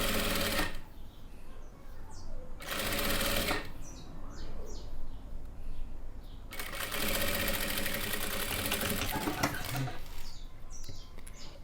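Domestic sewing machine stitching fabric for a hooded towel, close and steady whirring runs that stop twice for short quiet breaks before starting again, with no talk.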